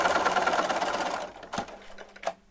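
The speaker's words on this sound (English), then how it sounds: "we're just going to finish sewing right down" A sewing machine stitches fabric in a fast, steady run for just over a second, then stops, leaving a couple of brief clicks and thumps.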